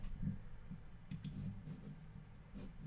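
Quiet clicking from a computer keyboard, a few scattered soft keystrokes and small taps in a quiet room, faint and irregular with no speech.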